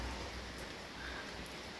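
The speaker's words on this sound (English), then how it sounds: "Absolutely pouring down." Heavy rain pours down outdoors on a dark night, a steady hissing wash of drops that stays even and continuous with no voices.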